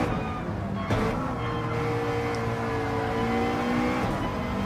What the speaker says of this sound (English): I love the way the McLaren sounds.